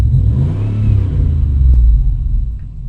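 A quad's engine, fitted with a Superchips 3715 tuner, revs up from a steady low rumble and holds, loud and close, with no talking over it.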